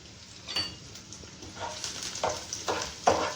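Finely chopped garlic frying in a pan over low heat, a soft sizzle with several brief bursts of crackling as it is stirred, fairly quiet and close.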